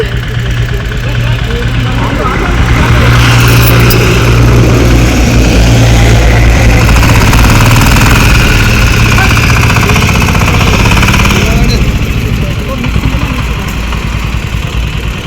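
An auto rickshaw engine runs steadily at close range, a loud, continuous chugging drone with a knocking mid-range rumble that lasts the whole stretch. Voices may sit faintly under it.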